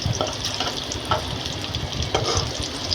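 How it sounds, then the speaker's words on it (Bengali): Kalijira rice poured into hot oil in a pot, giving a steady crackling sizzle with a few brief louder bursts as the grains hit, close and continuous with no talking. "চালগুলা দিয়ে দিলাম।"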